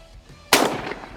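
A single sharp, close shotgun blast from a Browning A5 or Beretta A400 Xtreme Plus loaded with 3-inch, 1 1/8 ounce Black Cloud shells, with a brief ringing decay after the report.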